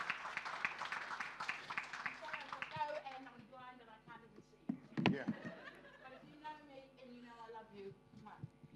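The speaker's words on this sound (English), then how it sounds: "One more round of applause, whānau." Applause from an audience at a Māori research symposium, a dense burst of clapping that thins into scattered claps, chatter and light laughter, with a sharp louder clap spike near the middle.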